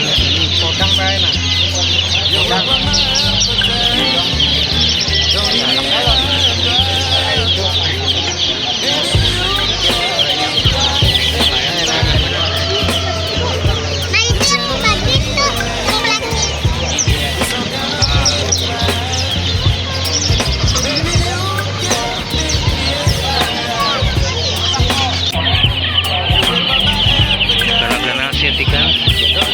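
Dense, continuous clucking from many chickens, loud and close, with a busy crowd of voices and chatter mixed in throughout.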